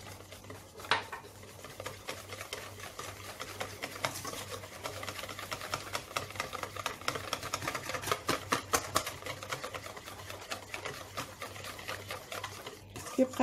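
Close, steady rhythmic scraping and tapping of a utensil against a bowl while cocoa cookie batter is stirred with oil, continuing without pause with faint background noise.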